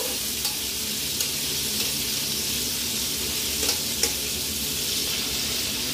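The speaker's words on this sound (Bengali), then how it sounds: "চিংড়ি মাছগুলোকে হালকা করে ভেজে নেব।" Shrimp fry lightly in oil in a pan while being stirred, a steady close sizzle with occasional soft clinks of a utensil.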